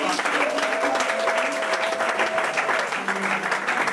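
A church congregation at a pastor's ordination ceremony claps and cheers for Jesus in dense, continuous applause, while a voice carries on over the crowd.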